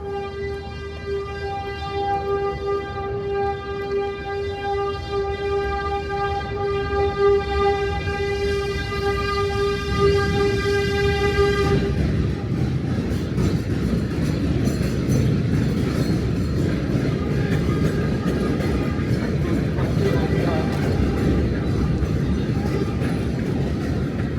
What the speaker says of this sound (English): That's the train that is beeping the horn.